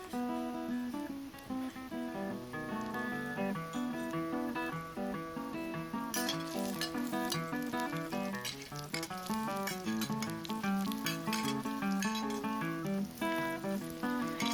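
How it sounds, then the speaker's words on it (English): Minced garlic stir-fries in three tablespoons of hot cooking oil in a heated pan, a constant sizzle running under prominent background music throughout. "In a heated pan, 3 tablespoons of cooking oil. Stir fry the minced garlics until slightly brown."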